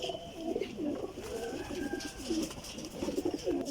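Pigeons coo in repeated soft, rolling phrases close by. Overlapping calls come in a steady rhythm over a faint background murmur, with no talk.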